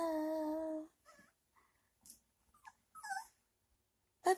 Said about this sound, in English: Puppy in the tub.